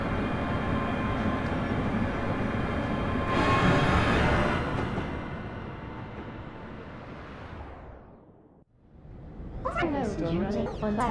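A Scotrail Class 385 train rumbles steadily along between Glasgow and Alloa, its noise swelling midway before easing off, with a brief drop and other sounds returning near the end.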